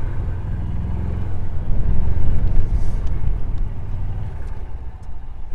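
A golf cart drives along a golf course toward the next shot, giving a steady low motor rumble with tire and road noise that swells slightly midway and holds at a constant, fairly loud level throughout, with no talking.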